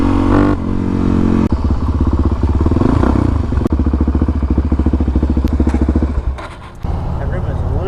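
A motorcycle engine running rich with its carburetor off the mark idles loud and close in a rapid, lumpy putter, then dips and stumbles near the end before picking back up.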